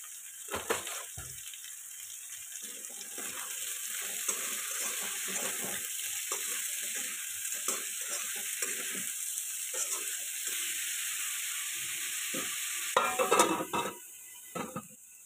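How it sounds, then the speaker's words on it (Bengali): Ridge gourd frying in a wok on a home stove, a steady sizzle running throughout with repeated scraping stirs and light pan knocks, close and fairly loud. "এখন আমি এই যে ঝিঙ্গা ভাজা বয়াই দিচ্ছি কড়াইয়ের মাঝে"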